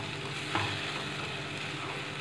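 Spiced masala frying in a pan with a splash of water for an egg and dried shrimp curry: a steady close sizzle, with a single clack of the utensil early on and no talking.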